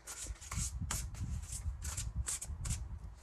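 Oracle cards shuffled by hand close up, a dense rapid riffling and sliding with soft thumps, continuous across the whole stretch.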